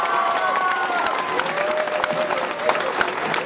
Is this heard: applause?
yes